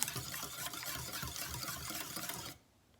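Bacon grease is stirred into a mixture in a skillet, giving a steady wet scraping and sloshing for about two and a half seconds before it stops abruptly.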